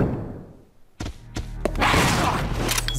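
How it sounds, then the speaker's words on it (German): Several sharp, loud broadband rifle bangs in the video game Resident Evil 0 HD Remaster, one after another, followed by a dense burst of noisy action; the reports sound punchy and close. "So, einen Schuss aus dem Gewehr kriegt der auch mal."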